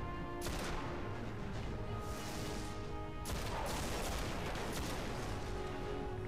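Gunfire in the video game Destiny, with loud overlapping bursts of shots and booming blasts, the first volley near the start and another heavy salvo about halfway through, dense and continuous.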